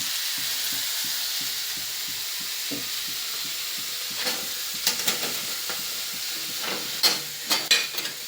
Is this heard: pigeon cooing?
no